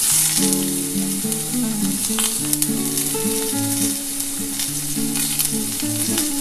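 Mango pieces fry with salt and turmeric in a pan, giving a steady, loud sizzle throughout with a melodic tune playing underneath.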